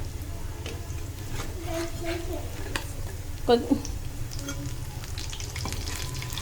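Food sizzles in a pan over a constant low hum, with a brief clatter midway as it is flipped; faint voices or background music run underneath.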